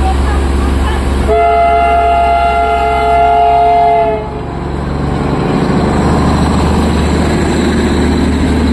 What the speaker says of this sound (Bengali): এই টয় ট্রেনগুলিকে সার্কুলার ট্র্যাকের মধ্যে চলতে দেখবেন আর সিটি বাজানোর শব্দ শুনবেন